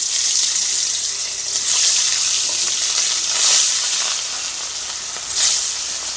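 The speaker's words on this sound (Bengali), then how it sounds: "এই যে মাছ এনেছে আজকে, কাতল মাছ। এটা এখন ভেজে নিব।" Katla fish frying in hot oil in a wok, a loud continuous hiss and sizzle that flares up in three bursts, with no talking.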